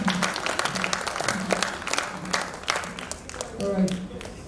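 Students applaud their teacher at a COSPRA Summit 2023 award ceremony, with uneven, moderate clapping and occasional sharper claps, while a voice talks over it throughout.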